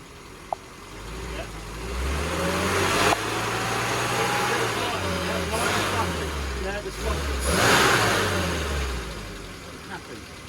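Classic car engine revving repeatedly as the throttle is pressed during on-the-road tuning, several rising and falling revs close by, with people talking over it.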